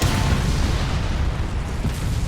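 A loud, sustained explosion from the anime Nichijou, a dense rumbling roar of low boom and crackling debris that stays heavy throughout and fades slightly near the end.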